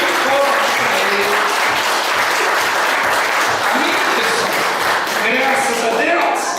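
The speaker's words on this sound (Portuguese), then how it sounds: "Dê uma salva de palmas para ele." Loud, continuous applause rises from a church congregation, many hands clapping in a thick steady wash that holds from start to finish, with faint voices mixed beneath it.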